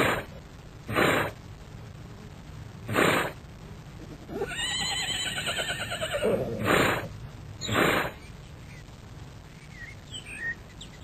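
A horse neighs in a long, shrill whinny during a fight with a neighbouring horse, with several short thumping hoof or impact bursts before and after, fairly close, with no talking.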